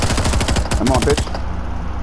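Rapid bursts of automatic gunfire ring out in the Fortnite video game, a fast loud rattle of shots for about a second before a quieter tail, with a voice talking briefly.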